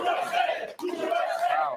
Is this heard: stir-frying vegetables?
no